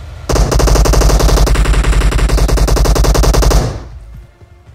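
Automatic weapon fire from squads fighting in the mobile battle game PUBG Mobile, a loud, dense, rapid burst lasting several seconds before cutting off abruptly.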